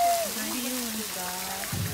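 A waterfall in an enclosure at Barcelona Zoo, Spain, gives a steady, broad hiss of falling water throughout, with faint voices and tones drifting over it.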